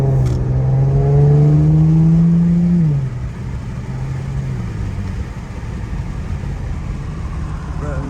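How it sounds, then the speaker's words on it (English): A modified Infiniti Q60 revs hard and takes off, its engine note climbing loudly for about three seconds before dropping as the car pulls away, leaving a lower fading rumble. "What car taking off like that?"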